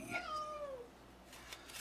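A cat gives one clear, fairly close meow that falls in pitch, followed by quiet background noise.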